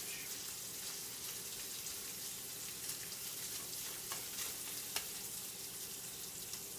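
Kale and spinach frying in bacon grease in a pan, a steady close sizzle and crackle with a few sharper pops, no talking.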